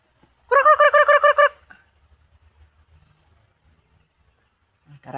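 Chickens making a quick burst of about six rapid, loud clucking calls close by, then a near-silent stretch with faint low rustling before another brief call at the end.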